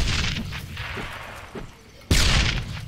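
Grenade explosions in the video game Darkest of Days: dull rumbling blasts over a noisy battlefield bed, with a sudden loud boom near the end that stays heavy, no clear talk.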